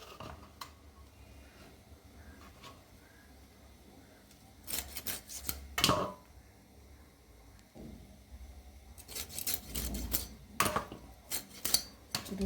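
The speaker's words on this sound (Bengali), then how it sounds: "এই টাটকা মাছ দুটি আমি এখন রান্না করব। কেটে নিচ্ছি।" Fresh hilsa fish being cut up with a knife in a home kitchen: scattered scraping, tapping and rubbing strokes, with a couple of louder bursts of chopping in the middle and toward the end.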